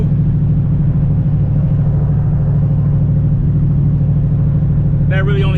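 Turbocharged SN95 Ford Mustang engine running steadily with an electronic boost controller, a dense low rumble throughout, and a voice briefly starting to speak at the very end.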